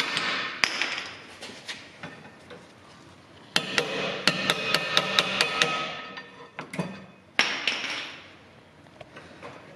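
Seized rear brake pads on a Renault Megane 3 being hammered off, sharp metallic strikes in bursts, several quick repeated blows in the middle, close and loud in a workshop.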